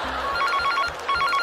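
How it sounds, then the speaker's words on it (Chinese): A telephone rings with a repeating electronic trill in short pulses, moderately loud over faint background studio noise. "法晨的妈妈，请听一下电话。"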